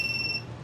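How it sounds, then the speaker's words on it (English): A WingSmith drone beeper gives a short, bright electronic beep, close by and fairly quiet, over a soft background hum as its battery is plugged in. "You get the 3 confirmation beeps."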